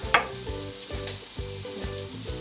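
Cumin and garam masala sizzle in a frying pan with ginger and chilli, a steady close crackling hiss with a few soft stirring scrapes, no speech.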